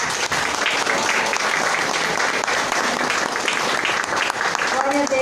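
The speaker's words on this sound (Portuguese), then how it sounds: "E é com essas palmas que a gente engrandece Jesus" Congregation clapping during a church service, loud and continuous dense applause filling the whole moment close to the microphone, with voices mixed in.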